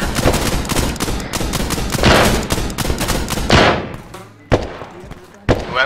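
Rapid, dense gunfire in a first-person shooter game, with bursts of shots and sharp reports crowding together, then tapering off into a few isolated loud cracks near the end.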